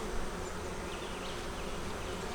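Honeybees raised in South Carolina buzz in a steady, continuous drone, a dense hum that stays even throughout without pauses or voices.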